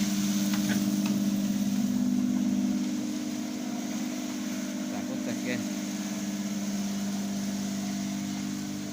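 A steady grain cleaning machine motor (7.5 kW) hum drones throughout, loud and close, with a brief voice speaking over it near the start.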